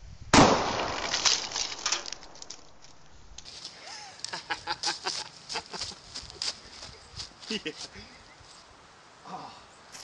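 A firecracker packed with flash powder and guncotton bursts inside a giant aspirin bottle with one sharp, loud report, followed by crackling and scattered clattering fragments, with talking running over it.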